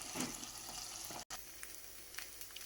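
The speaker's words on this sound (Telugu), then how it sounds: "అండ్ పచ్చిమిర్చి, కరివేపాకు ఇవన్నీ వేసి దోరగా వేపించుకోవాలి" Onions frying with green chillies and curry leaves for a Guntur-style masala egg fry: a steady close sizzle with light stirring throughout, broken by one brief dropout.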